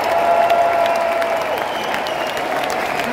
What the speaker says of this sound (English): yourself a round of applause